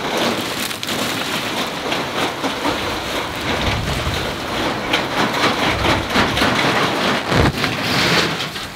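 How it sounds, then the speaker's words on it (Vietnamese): Heavy rain falls in a video game around a brick house. The downpour is loud and constant, with a couple of deep, rumbling thuds under the hiss, and no voices. "Tình hình là anh Lâm mới tạo mưa"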